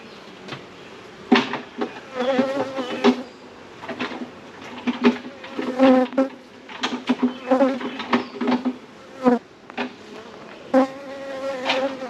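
Bees buzzing close by in bursts that swell and fade, with several brief louder passes over a steady faint hum.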